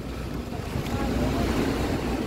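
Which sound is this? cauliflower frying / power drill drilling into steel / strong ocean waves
strong ocean waves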